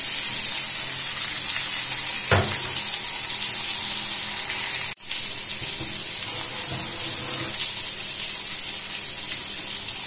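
Garlic and hot chili peppers fry in a pan with a continuous bright, hissing sizzle, broken by a brief stir-like clatter and a momentary dip, with no talking.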